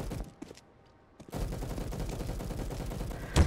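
Video game bots fire their guns one shot at a time. Their shots sit under a steady wash of game noise, and a louder, close report lands near the end.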